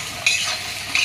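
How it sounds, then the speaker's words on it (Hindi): Flat beans stirred in a pan: two brief scraping strokes of the utensil stand out over a continuous soft sizzle, close and fairly loud with no voices. "और मिक्स करते रहेंगे।"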